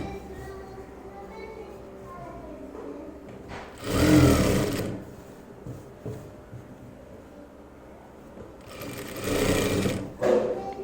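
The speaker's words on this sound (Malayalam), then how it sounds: "ഞാനിതുപോലെ തന്നെ സ്ട്രെയിറ്റ് ആയിട്ട് അങ്ങോട്ട് സ്റ്റിച്ച് ചെയ്യാൻ പോവുകയാണ്" A sewing machine stitching a straight seam on a churidar, two loud motor-driven whirring runs of rapid needle chatter about a second long each, close by, separated by quieter handling and someone talking.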